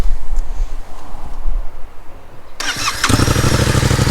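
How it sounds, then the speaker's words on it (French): A Yamaha MT-07 motorcycle fitted with an Arrow aluminium exhaust cranks and fires up partway through, then settles into a loud, close, rumbling idle after a quieter stretch of background noise. "Je voudrais démarrer la moto quand même."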